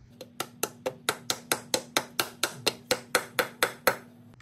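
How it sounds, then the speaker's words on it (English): A dead blow hammer taps a seal flush into a 1999-2005 Oldsmobile Alero 4T40E transmission, sixteen or so even, sharp knocks in a steady rhythm, close and alone. "I'm gonna use my dead blow, nice and easy."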